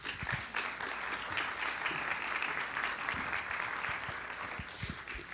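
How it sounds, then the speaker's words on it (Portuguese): A crowd at a Brazilian cinema discussion event applauds steadily, many hands clapping together in a dense, continuous patter that holds at an even level throughout. "Palmas."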